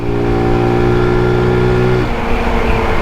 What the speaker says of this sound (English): There's a lot of intake noise when you give it some gas.